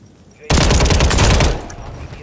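About one second of rapid automatic gunfire from a newly added UZI in a shooter video game, a loud close burst that stops abruptly and leaves a faint tail.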